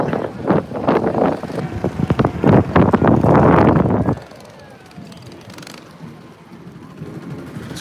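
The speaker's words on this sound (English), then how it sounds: "that's a big wind gust" Strong gust of wind buffeting the microphone outdoors at a St. Patrick's Day parade in Providence, a loud, rough rush for about four seconds that then drops away to quieter background ambience.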